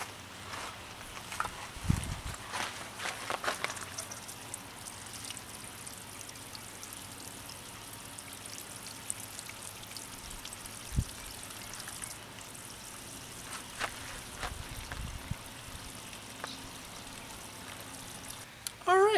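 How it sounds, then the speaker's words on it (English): Water poured from a watering can onto newly planted hardy hibiscus, a faint steady trickle and pour with a few soft footsteps and rustles, quiet and close, no talking. "Okay, now just gotta give them a good drink. Have some water in our watering can here."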